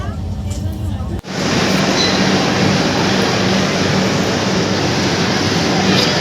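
A train at Haridwar railway station gives a loud, steady rumble of rolling wheels and carriage noise. It fills the scene close up after a brief sharp drop near the start.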